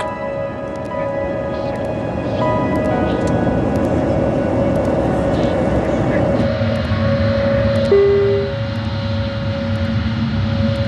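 Steady broadband engine drone of the Air Transat 236 airliner in cruise, heard from inside the aircraft as a continuous hum with a faint tone that shifts midway, and a voice speaking over it.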